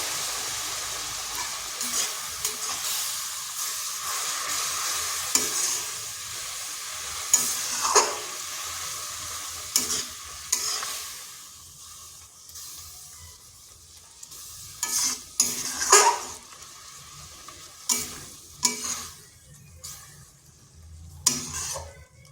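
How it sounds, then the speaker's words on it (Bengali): A spoon stirs and scrapes a grated raw papaya mixture in a pan over low heat, with a steady soft sizzle and repeated close scraping strokes, and no talking. "মিডিয়াম আঁচে 4 থেকে 5 মিনিট এইভাবে একটু ফুটিয়ে নিতে হবে। এইভাবে নাড়তে নাড়তে"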